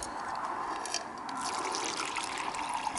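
Acid solution from gold recovery of ceramic CPUs trickles steadily into a catch jar, a continuous close pouring and splashing of liquid with no voices.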